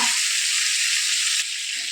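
Chicken pieces fry in a pan for a grill-style chicken dish, giving a loud, steady sizzle that drops slightly in level partway through.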